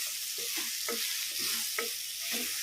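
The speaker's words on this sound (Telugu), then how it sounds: "నూనెలో మంచిగా ఇవి కూడా మంచిగా పెసరపప్పు ఇవన్నీ మంచిగా నూనెలో ఇట్లా కలగలపాలి" Ridge gourd and moong dal are stirred and fried in oil, giving a steady close sizzle with several distinct scraping stir strokes, and no one speaks.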